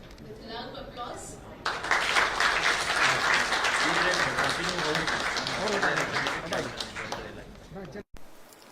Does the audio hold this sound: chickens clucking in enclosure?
no